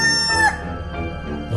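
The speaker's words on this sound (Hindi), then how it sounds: "उन्हीं में से एक कब्र के ऊपर वो मुर्गा खड़ा बाग दे रहा था।" One rooster crows close by while standing on a grave in a graveyard, a short, clear, strained call that breaks off quickly.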